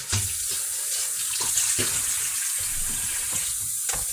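Tap water runs steadily into a sink as homemade salad is rinsed, a close, constant splashing wash broken by small sputters and knocks as the leaves are moved under the stream.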